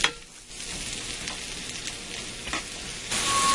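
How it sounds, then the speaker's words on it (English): Thinly sliced mushrooms sauté in a pan over medium-high heat, with a steady close sizzle and the occasional stir or scrape of a utensil throughout. "over medium-high heat, I'm going to saute these till they're soft"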